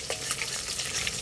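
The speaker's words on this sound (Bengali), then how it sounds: "মাছ ভাজা হয়ে গেছে, তুলে নেব।" Pieces of rohu fish frying in hot oil in a wok make a close, continuous crackling sizzle with soft scraping stir sounds, short and without speech.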